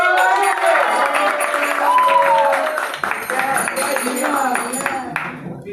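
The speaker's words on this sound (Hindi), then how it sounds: "टीम नंबर 2 के लिए और जोरदार तालियां हो जाए" Crowd of people clapping and cheering steadily at an Independence Day quiz competition prize announcement, dense applause filling the clip before tapering off near the end.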